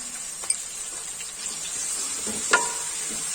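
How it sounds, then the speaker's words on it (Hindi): Onions frying with salt in a pan make a steady, close sizzle, with a couple of sharp utensil clinks against the pan and no talking. "तो पहले इसको फ्राई कर लेते हैं।"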